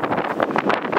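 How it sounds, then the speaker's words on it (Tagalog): Strong wind gusts buffet the microphone on an open farm, a rough rushing roar rising and falling over about a second. "Ay, ang hangin."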